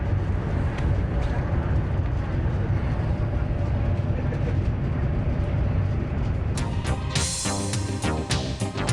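A steady, loud rumbling roar fills the interior of a moving high-speed train, with a brighter clattering rush near the end.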